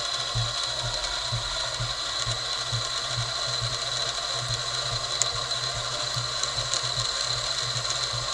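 A new bobbin winder spins thread onto a bobbin with a continuous mechanical whir, a steady motor hum carrying a faint regular ticking pulse throughout, close and without voices.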